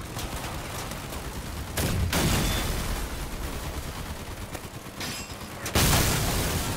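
Rockets and heavy weapons in a Crossout vehicle battle game: dense, loud bursts of explosions and gunfire roll on continuously, with sharper blasts standing out.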